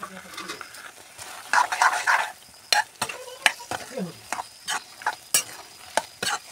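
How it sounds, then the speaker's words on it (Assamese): A spatula stirs taro and meat curry in a pan, producing repeated scraping strokes with a sizzling burst early on, fairly close and loud, with a voice talking faintly between strokes. "আৰু এনেকৈ পুৰা হেতাখন লৰাই দিছোঁ যাতে কচুখিনি একেবাৰে গুৰি হৈ যায়"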